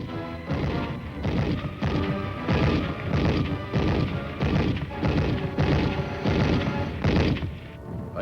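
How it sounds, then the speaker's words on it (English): Heavy gunfire from a recoilless rifle and a machine gun in 1951 combat, a rapid series of loud, booming bursts repeating roughly every half second, harsh and close with no pauses. "A recoilless rifle is brought into action against the stubborn resistance. A machine gun lends its firepower"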